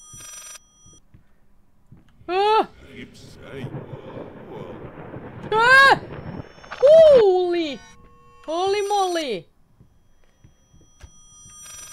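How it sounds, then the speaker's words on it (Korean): A telephone rings inside the horror video game Layers of Fear, sounding as four separate, fairly loud tonal bursts over a low background hum, with a person talking between and over the rings. "무슨 소리야 전화야?"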